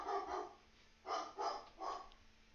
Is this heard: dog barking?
yes